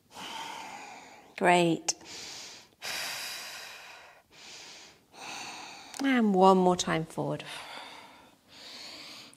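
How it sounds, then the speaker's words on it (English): During a hatha yoga flow, slow breaths drawn in and pushed out through the nose come up close between an instructor's spoken cues, with audible airy inhales and exhales in the pauses. "really breathing in through the nose and out through the nose when you're practicing"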